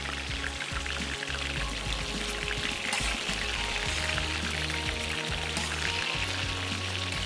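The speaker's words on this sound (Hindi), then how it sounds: "अच्छे से दोनों तरफ से भी इसको करेंगे फ्राई।" Eggs frying in a pan for pulao, a steady, dense sizzle with faint crackles, close and constant, with no voices.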